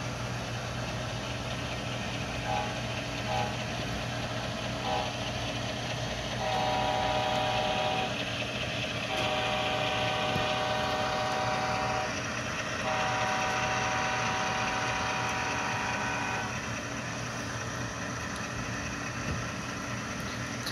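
Walthers GE ES44 model locomotive without a sound decoder running steadily, a quiet continuous motor hum and gear whir with faint shifting tones throughout, no voices.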